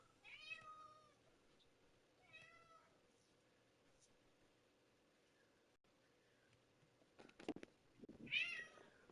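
A cat meows several times, short nearby calls spaced apart over a quiet background, the last ones louder and more insistent, with a brief rustle between them.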